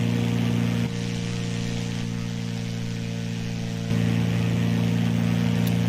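Aircraft engine held at full throttle during takeoff roll in a VR flight simulator game, a steady loud droning hum with stable tonal bands, stepping up slightly in level partway through, with no voices.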